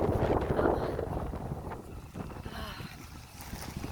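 Gusty wind buffeting a microphone outdoors on a very windy day along a village road by a church, a loud rumbling rush at first that eases, then swells again, with no talk.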